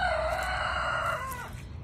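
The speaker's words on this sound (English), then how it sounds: "some more chickens are hanging out back here." A rooster crows loudly and close by at a Florida garden center, one long drawn-out call that trails off near the end.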